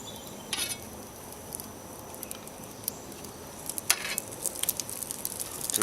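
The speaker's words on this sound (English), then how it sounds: "Just don't want to cook the bacon too fast." Bacon frying slowly on a grill set to low, a soft steady sizzle with light crackling pops scattered throughout, growing slightly busier toward the end; no one speaks.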